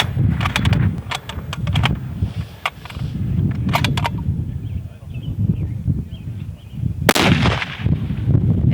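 Rifle shots ring out at an NRL Hunter shooting competition stage outdoors, with clusters of sharp cracks and one loud report near the end over a steady background rumble.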